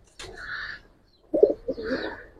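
Giribaz pigeons coo twice in quick succession, two short close throaty calls separated by a brief pause.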